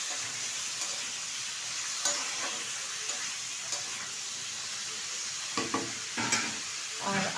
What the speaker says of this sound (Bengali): ভালোভাবে এবার সবজিটা কষিয়ে নেবো তেলের সাথে